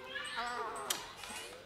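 The ghost cat boss in Luigi's Mansion 3 gives a close, whiny meow that wavers in pitch, alone over a light game background.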